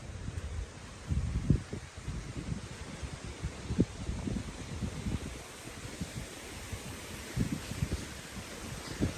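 Strong, gusty wind blows through trees around a rural house and field, with broad continuous rushing and rustling that surges in loud bursts, plus buffeting noise on the microphone; no one speaks.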